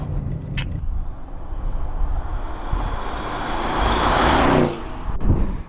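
A 2021 Audi RS6 Avant wagon with a V8 engine accelerates hard, its roar building into a loud surging rush and whoosh of passing before cutting off, then a brief mechanical clatter; no talking.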